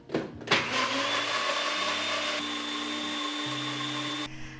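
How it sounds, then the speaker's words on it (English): A blender whirs through a cashew dressing, starting with a sharp burst and settling into a steady, loud motor whine that shifts pitch slightly as the mix thickens, then cuts off abruptly. "We blend."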